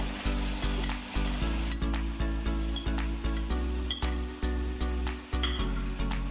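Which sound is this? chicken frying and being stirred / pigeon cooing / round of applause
chicken frying and being stirred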